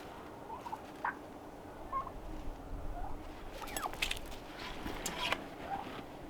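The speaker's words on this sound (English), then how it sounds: "See how feisty this bird is?" A feisty bird squawks and chirps in short bursts up close, with scratchy rustling and shuffling noises between the calls.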